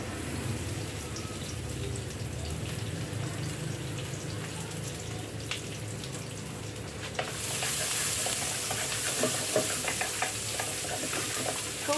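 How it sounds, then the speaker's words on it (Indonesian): Garlic sizzles and fries in a pan for a bitter melon stir-fry, a steady hiss with scraping stirs that turns louder and brighter about midway as the garlic hits hot oil. "Saya akan masukkan bawang putih dulu. Bawang putih masuk."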